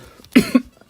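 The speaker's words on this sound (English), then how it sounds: "I got a lot of coughing to do" One short, close cough with two quick bursts, alone in a quiet room.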